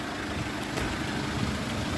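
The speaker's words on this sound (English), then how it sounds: "First thing I hear, which captures my ear, is that hum of the engine." A steady engine hum heard on an outdoor mindfulness walk, a low, continuous idling drone from a nearby vehicle with faint broadband noise on top and no voices.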